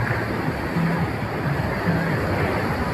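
Sea waves surge against the shore and rocks at a beach in Goa, a loud, steady wash of churning water with wind noise on the microphone.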